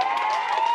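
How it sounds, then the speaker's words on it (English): Audience applause and cheering for a band at a live show, a short dense burst of clapping and crowd noise at steady loudness. "We got to give a round of applause to the band."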